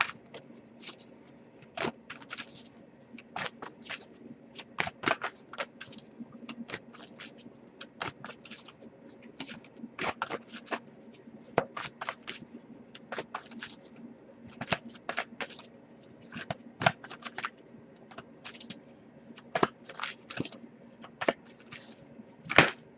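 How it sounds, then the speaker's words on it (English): A deck of oracle cards is shuffled steadily for a long stretch, producing a dense, close run of quick papery riffles and snaps in an uneven rhythm, with no voices over it. "If I shuffle for a while and nothing comes up, worst case, I can just pull a random one."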